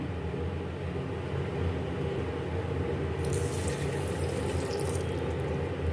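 Milk poured into a pan for angoori halwa, a continuous liquid pouring and splashing sound with a brighter trickle in the second half, no talk.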